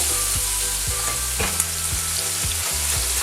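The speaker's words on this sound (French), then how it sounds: "Ensuite, on va faire revenir l'oignon." Onion frying in a pan for a lamb dish gives a steady, close sizzle that runs without a break, with faint stirring scrapes. No one speaks.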